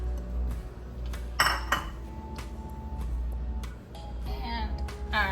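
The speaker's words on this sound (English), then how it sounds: "We're gonna add our sausage back in." Kielbasa sausage tipped back into a pot of cheesy potato soup, metal utensils clinking against the pot in a few sharp knocks, with soft scraping and a low steady kitchen hum beneath.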